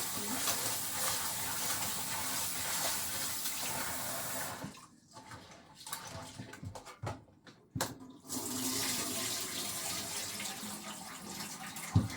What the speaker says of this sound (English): Wash my rice.